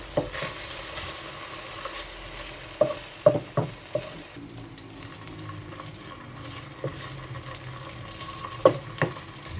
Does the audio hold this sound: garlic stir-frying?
yes